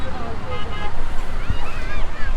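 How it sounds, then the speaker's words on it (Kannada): Sea waves breaking on a Bay of Bengal beach, a loud continuous surf roar mixed with heavy wind buffeting the microphone, with faint background voices. "ಇದು ಬಂಗಾಳ ಕೊಲ್ಲಿ ಸಮುದ್ರ,"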